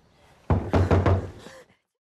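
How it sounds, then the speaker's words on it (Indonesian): Three loud, firm knocks on the door of an old house in a horror film, quick and close, then silence. "Kemudian mereka pun nekat mengetuk pintu rumah tua tersebut."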